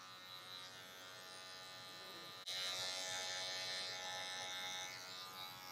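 Electric hair clippers buzz steadily during a low fade on Afro hair, a close, continuous motor hum that gets noticeably louder and brighter partway through as the blade meets the hair, with no talking.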